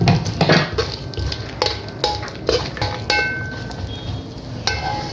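Melon seeds frying in a pan, with a soft sizzle under repeated scraping and clinking strokes of a spoon as they are stirred, close and fairly loud, no voices.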